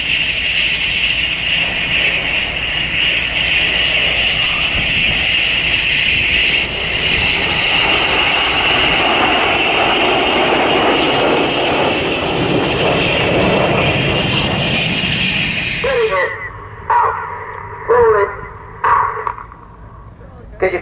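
Red Arrows jets flying in formation at the Cosford Airshow, a loud, sustained roar that swells as they pass, then cuts to quieter intermittent sounds near the end.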